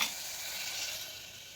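A soft, steady sizzle of food frying in a pan, hissing evenly with no voices.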